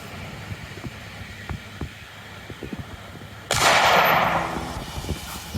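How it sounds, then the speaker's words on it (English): A Thompson Center Encore Super 14 single-shot rifle chambered in .223 fires one loud, close shot at an outdoor range, the sharp blast trailing into a long fading rumble. "We're shooting the Thompson Center Encore Super 14. It's a single shot. Shoots 223"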